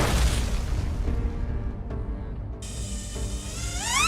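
A Russian tank struck by a drone explodes, a heavy low boom and sustained rumbling roar that fades out, with a rising whistling tone at the end.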